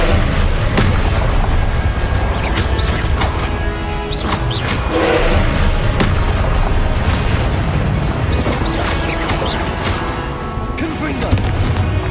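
Confringo blasting spell explosions in Hogwarts Legacy, booming blasts and crashes repeating every second or two over a busy battle din, loud and near, with spell-casting voices heard.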